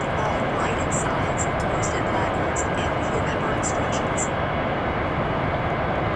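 A big airliner in a flight simulator game spools its engines up for takeoff, a steady broad roar filling the clip while a faint rhythmic ticking rides on top and a voice talks over it.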